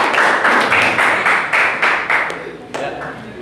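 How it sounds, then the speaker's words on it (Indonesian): Classmates clap for a group that has just finished presenting in a classroom. It is a brisk, steady patter of claps from a small group that thins out near the end, with voices murmuring underneath. "beri aplaus semuanya"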